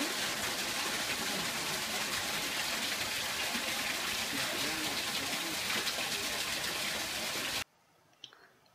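Water running steadily through ponds in a large garden in Shanghai makes a continuous loud, even gush that stops abruptly near the end, leaving a quiet background.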